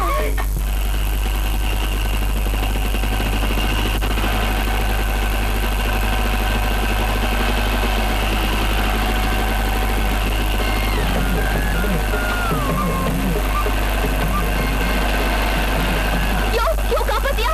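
A motor vehicle engine idles with a steady low rumble in a Tamil film scene, its hum running continuously under voices and background sounds.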